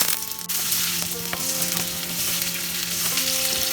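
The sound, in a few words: pointed gourd (potol) frying in a pan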